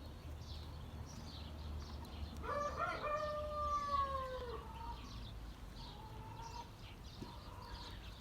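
A rooster's crow rings out once in a backyard flock of hens and roosters, a clear drawn-out call rising and falling over about three seconds at moderate distance, with steady low background noise throughout.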